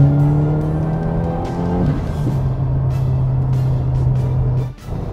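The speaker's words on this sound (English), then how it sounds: "we're gonna put the car in third gear and do a wide open throttle pull" A turbocharged 2022 Subaru WRX pulls hard at wide open throttle in third gear, its steady droning note rising and holding loud for several seconds before briefly dipping at the end.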